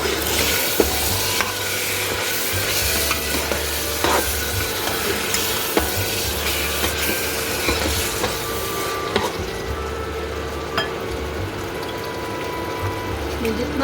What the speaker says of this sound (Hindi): जितना भी कीमा है वो सारा मैं इसमें डाल रही हूँ। ये चिकन का कीमा है